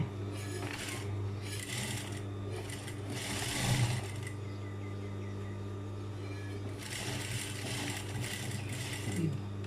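A sewing machine stitching the collar of a tailored casual suit jacket, running in bursts with pauses between, a steady mechanical hum underneath, close and fairly quiet.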